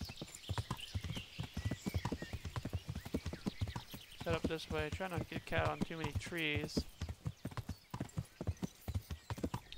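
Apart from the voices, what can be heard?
horse hooves clip-clopping in a medieval video game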